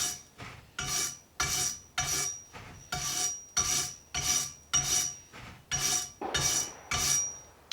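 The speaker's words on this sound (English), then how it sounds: "I've just got this wire bristle brush, and I'm going in and brushing the threads to clean them out" A wire bristle brush scrubs the threads of a black pipe for a roof deck mount on a bus conversion, in about a dozen steady, rhythmic, raspy strokes, loud and close, with no talking.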